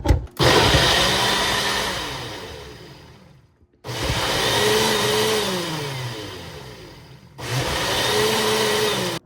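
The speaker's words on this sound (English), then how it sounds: "And then you just crank the blade on there and take it over to the blender." A blender mixing a protein shake whirs loudly in three bursts separated by short pauses, and its pitch shifts as the blade spins up and settles. No one speaks.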